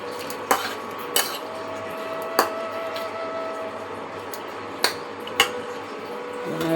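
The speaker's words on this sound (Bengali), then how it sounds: "এটা দিয়ে ভালো করে একটু নাড়াচাড়া করে নেব।" A pot of pulao made with Gobindobhog rice, cashews, raisins, bay leaf and whole garam masala being stirred, with sharp metallic spoon clinks against the pot at irregular intervals over a low steady background hum.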